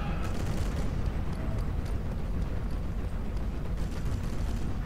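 Heavy gunfire in Sniper Elite aimed at a World War I-style tank, a continuous barrage of dense, rumbling shots and impacts that stays loud and unbroken throughout.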